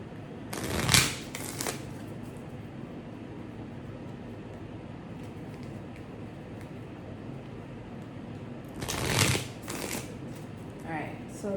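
Tarot cards being shuffled in two short bursts, one near the start and one near the end, with steady fan noise filling the quiet stretch between them.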